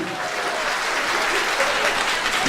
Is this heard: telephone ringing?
no